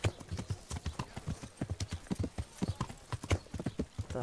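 Horse hooves clip-clop steadily in the video game Kingdom Come: Deliverance, a rapid, even rhythm of close hoofbeats at moderate loudness, with faint speech beneath.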